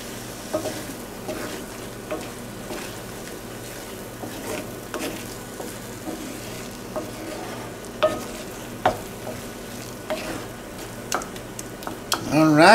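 A crawfish and egg burrito filling cooks in a pan with a soft, steady sizzle, punctuated by scattered stirring scrapes and clicks of a utensil against the pan.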